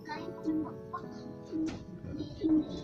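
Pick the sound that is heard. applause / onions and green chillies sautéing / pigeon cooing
pigeon cooing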